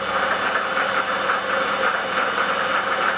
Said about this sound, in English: A little bit of noise from the pulley,